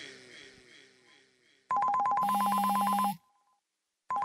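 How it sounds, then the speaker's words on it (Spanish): Loud mobile phone ringtone bursts in after quieter speech, a repeating electronic melody with a steady high buzzing layer, stopping briefly before starting again near the end. "lo primero que te viene a la cabeza cuando suena tu celular"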